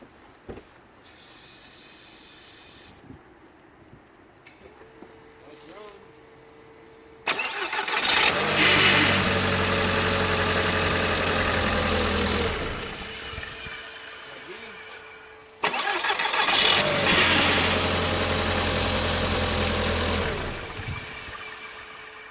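A car engine is cranked with a jump pack booster clipped to the battery: after quiet handling, it turns over and runs loudly, cuts off, then starts again and idles.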